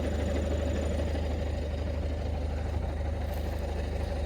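An MTZ 892 tractor engine runs steadily nearby, stopped mid-ploughing with a PLN 3-35 plough, giving a constant low rumble with no talk.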